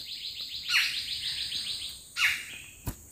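Wild birds chirp in a rapid series of bright, repeated notes, with a louder sweeping call standing out twice and a short sharp click near the end, close by outdoors with no talking.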